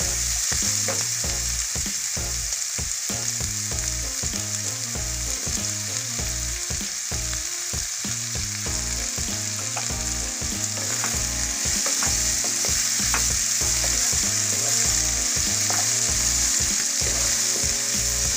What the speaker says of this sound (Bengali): কিছুক্ষণ ভাজার পরে এবার আমি এর মধ্যে টমেটোগুলো দিয়ে দেবো।